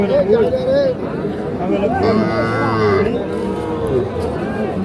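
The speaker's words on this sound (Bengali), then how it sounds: "এগুলো কিন্তু বকনা বাচ্চা" Young heifer calves at the Ambari cattle market moo close by in drawn-out calls, the clearest one near the middle, over steady crowd chatter and people talking.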